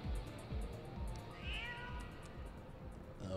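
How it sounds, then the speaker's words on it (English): A cat meows briefly in the Final Fantasy XIV video game, a faint rising call partly buried under loud, rhythmic game music and effects. "Oh, it's that cat."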